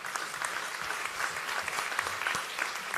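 Startup Battle audience gives dense, steady applause, many hands clapping at a moderate distance with an even, unbroken patter throughout.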